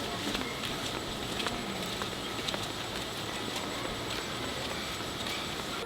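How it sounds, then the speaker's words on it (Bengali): Steady monsoon rain falls outside a home kitchen, a constant even hiss of patter with no voices heard. "আবার বৃষ্টি"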